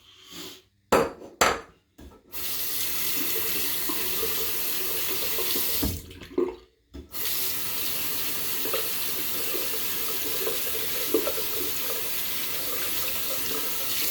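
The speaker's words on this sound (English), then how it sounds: "rinsing my brush out" A shaving brush is rinsed under a running tap, water gushing steadily into the sink after a few brief stop-start bursts near the beginning, with a short pause midway before the flow resumes.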